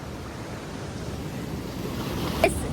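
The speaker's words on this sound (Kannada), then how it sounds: "ತುಂಬ ನೀರುಂಟು, ಬೀಳ್ತಾ ಉಂಟು ನೀರು." Ocean surf breaking on Udupi beach, a continuous rushing wash of waves mixed with wind buffeting the microphone.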